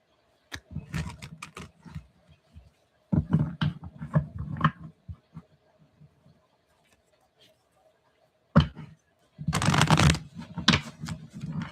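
Tarot cards being shuffled in short bursts of flapping, riffling clatter, close by, separated by quiet pauses, with a louder burst near the end.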